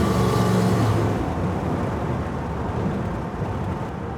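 A car fitted with an oversized carburetor accelerates from a dead stop, a loud broad engine roar that is strongest at the start and then settles into a sustained rushing drone.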